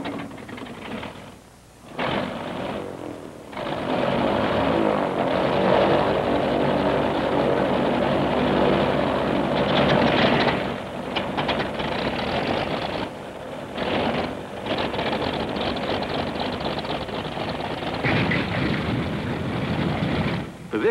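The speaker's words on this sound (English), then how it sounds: "Let's start with the piston-engined aircraft." A loud, steady droning engine of a propeller plane fills the recording, with brief dips and swells as it passes.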